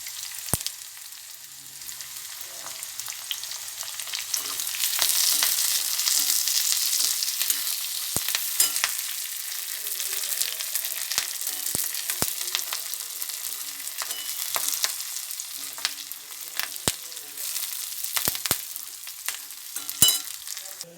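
Small onions and curry leaves frying in hot oil for a papaya curry, giving a steady close sizzle with scattered pops and crackles throughout, no talking.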